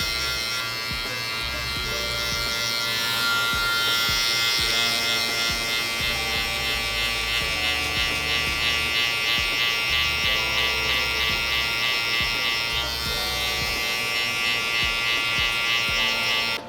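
An electric hair clipper cutting hair during a self-cut low fade: a steady, close, high-pitched motor buzz that holds throughout, with slight shifts in tone as the clipper moves through the hair.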